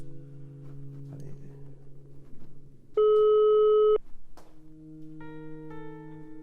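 Telephone tones during a call in a French short film: steady ringback tones, one loud continuous tone lasting about a second, then further tones, with faint talk beneath.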